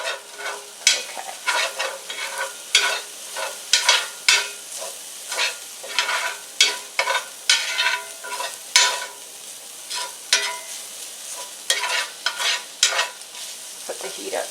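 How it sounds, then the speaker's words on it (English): Onions sauté in a pan for a Northern Italian lemon chicken, with crisp, repeated scraping strokes of stirring over a light, steady sizzle, close and without talk. "we're going to continue sauteing, stirring off in about 3 minutes or until the onion is deep gold"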